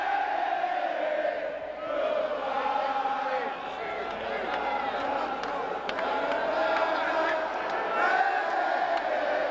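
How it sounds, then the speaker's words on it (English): Chicago White Sox fans singing together in a packed stadium crowd during the 2005 World Series win, a broad sustained chorus of voices with cheering, filling the whole stretch. "There's the song we love. Sing it, White Sox fans."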